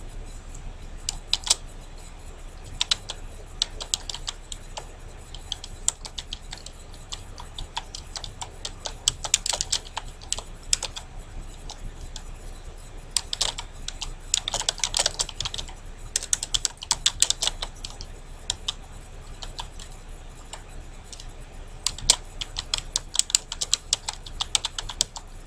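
Steady typing on a computer keyboard while entering text in Microsoft Word, with rapid clicking keystrokes in irregular bursts and short pauses throughout, fairly close and alone with no talking.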